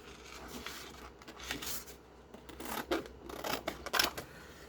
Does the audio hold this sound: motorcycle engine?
no